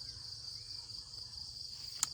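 Steady, continuous insect trilling from crickets at a rural spot in Vietnam, a constant high-pitched drone with a faint low rumble beneath and one brief sharp click near the end; no roosters stand out.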